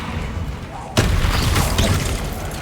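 A Confringo spell explosion in Hogwarts Legacy, a sudden loud blast about a second in that gives way to a sustained roaring rumble under ongoing game noise.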